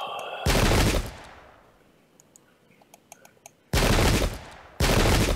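Musket volleys in the video game Pike and Shot at the Battle of Lützen: three loud, harsh bursts of massed fire, one early and two close together near the end, with faint clicks and ticks in the quiet between.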